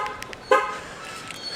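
A car alarm being armed gives a single short horn chirp midway, fairly close, with faint background noise around it.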